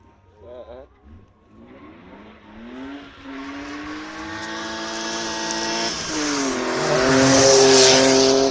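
BMW drift car, number 168, at a drift event, engine climbing from idle into a loud sustained high rev with rising pitch, tires squealing as it builds, while a commentator talks over it.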